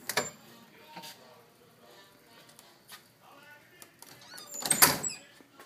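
A door fitted with a leaking global door closer slams shut hard, a sharp loud bang near the end after quieter thumps and clicks, close by in a quiet room.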